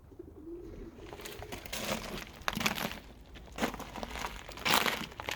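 Pigeons on a roof coo softly in a low, throaty rhythm, mixed with rustling and crinkling sounds close by.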